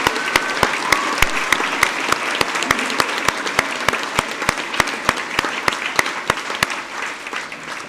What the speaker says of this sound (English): Can we please give those a big round of applause?